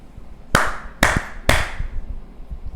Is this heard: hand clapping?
yes